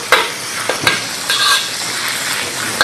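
Ginger slices and chili stir-fry in a little oil in a wok, giving a steady close sizzle broken by a few sharp clacks of a spatula against the pan.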